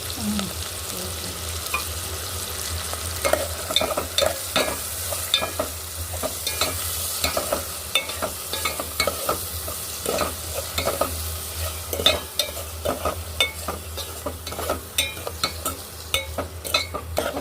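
Onion, curry leaves and tomato with turmeric and salt fry in a pan for an okra tamarind stew. A steady sizzle runs underneath while a spoon scrapes and clicks in frequent, irregular strokes close by.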